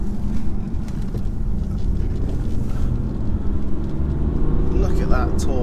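A 2018 BMW 430d coupe accelerates hard on the road, its diesel engine a loud, steady low rumble heard from inside the cabin with road noise throughout.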